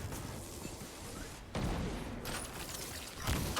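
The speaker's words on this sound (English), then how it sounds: "then we're just going to do one rotation of our hand cannon, and he's going to die." Hand cannon fire in the shooter game Destiny during a solo Grandmaster Devil's Lair run, with booming shots and impact bursts over a dense combat rumble, and a player's commentary running underneath.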